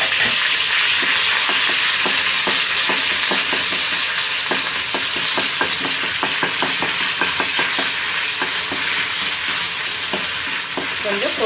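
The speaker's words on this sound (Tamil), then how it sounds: "இஞ்சி பூண்டு விழுத போடுறேன்." Ginger garlic paste fries in hot oil with cloves, cardamom and star anise in a pan, giving a loud, steady sizzle broken by frequent scraping strokes of a spoon, with no voices.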